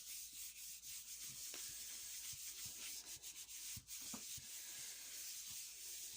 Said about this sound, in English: I've placed it on top of my gel plate, and I'm going to give it a bit of a rub